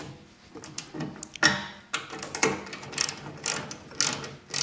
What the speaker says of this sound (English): we're going to take our socket wrench on the back side here